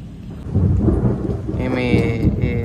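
Heavy rain pours steadily at night while low thunder rumbles and rolls underneath, with no voices.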